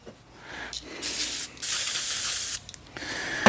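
Several short hissing bursts from a spray nozzle, with one long spray in the middle, separated by brief quiet gaps, as coating product is sprayed onto a towel.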